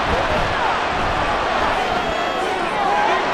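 Stadium crowd roar in Madden NFL 24 on PS5, Cincinnati Bengals against Dallas Cowboys on a late-game third down, forms a loud, dense, unbroken wash of cheering that stays steady throughout.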